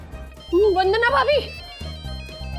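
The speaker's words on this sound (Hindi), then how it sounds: "वंदना भाभी, हर्षद का फोन है मेरे 1 लाख के मोबाइल पर" A mobile phone rings nearby with a bright, warbling ringtone melody that plays once, followed by low, steady background sound.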